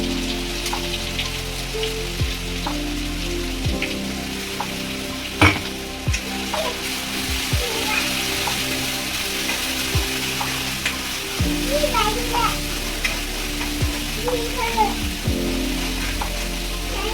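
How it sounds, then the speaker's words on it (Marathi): Ground masala paste sizzling and frying steadily in hot oil for a mutton button rassa curry, a continuous close crackle with occasional stirring scrapes and no talk. "आता तेल झालंय आपलं चांगलं गरम. आता वाटण टाकून घेऊ"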